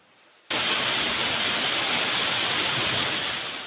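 Sudden rain over Kotagiri in the Nilgiris district, coming in abruptly as a dense, steady hiss that stays loud and even throughout, with no voices.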